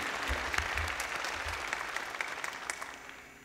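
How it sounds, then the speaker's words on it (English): An audience applauds at a ceremony after musical performances, a broad, steady wash of clapping from many hands that holds for a few seconds and slowly tapers. "Please join me in applauding the music so far."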